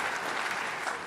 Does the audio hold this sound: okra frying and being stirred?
no